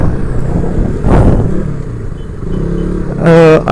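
KTM RC 200, a 200cc sport motorcycle, ridden at speed, with a brief rumbling engine swell followed by a loud, sharp rev at the end, heard close amid wind rush.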